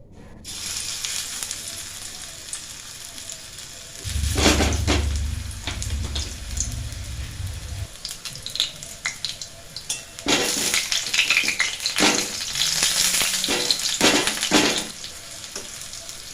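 Pakoras dropped one by one into hot mustard oil, a loud bubbling sizzle that swells as each piece goes in and then settles to a steady crackle, with occasional utensil knocks.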